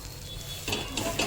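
Sliced pav bread roasting on a pan makes a soft, even sizzle that brightens and grows louder partway through, with a faint scrape of stirring.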